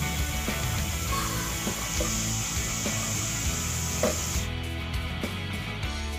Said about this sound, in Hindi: मसाले को हम थोड़ा सा भून लेंगे और साथ ही अदरक लहसुन का पेस्ट शामिल कर देंगे।